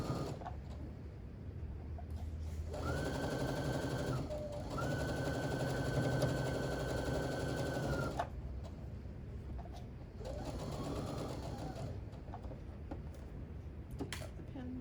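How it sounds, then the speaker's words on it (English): A domestic sewing machine stitches fabric in two sustained runs of steady, even whirring, with a short pause between them. A quieter third burst follows, and a voice speaks softly in the background. "I'm just going to sew this."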